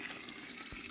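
Water being added to puff puff batter, a brief, steady gushing pour heard close and alone.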